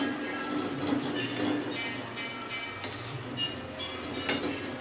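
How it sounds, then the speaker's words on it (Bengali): Grated coconut fries in oil in a pan, producing a steady, close crackling sizzle. Occasional scraping stirs run through it, and no voices are heard. "নারকেল দিয়ে তেলের মধ্যে নেড়ে নেব দেখে মনে হচ্ছে তেল কিন্তু নেই কিন্তু ভাজতে ভাজতে আস্তে আস্তে তেল ছাড়বে"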